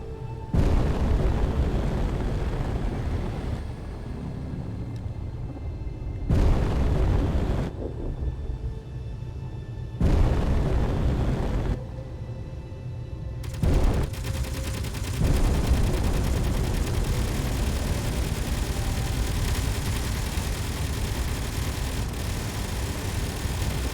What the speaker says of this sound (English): My guns are gonna rip this station to pieces.